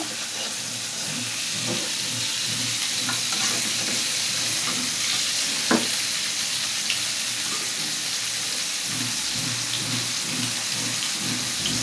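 Koi fish fry in hot oil in a pan, a loud, continuous sizzle and hiss with occasional crackles and a brief sharp pop midway, steady throughout with no talking.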